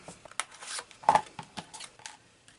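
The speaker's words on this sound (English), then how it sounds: "I'm just going to trim out the one piece" Scissors trimming out a paper cut-apart piece for a holiday card, a quick series of crisp snips and paper rustles, close and fairly quiet, with no talking.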